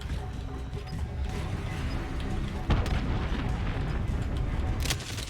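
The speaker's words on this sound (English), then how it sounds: "Enemy cruise missile." An enemy cruise missile explosion in a video game: a rumbling boom amid steady battle noise, with a sharp blast near the middle and another crack near the end, fairly distant and muffled.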